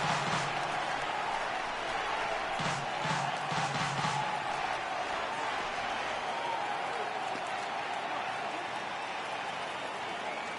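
A baseball stadium crowd in MLB The Show 18 roars and applauds continuously at a full-count pitch, a broad sustained wash of cheering with a commentator's voice over it.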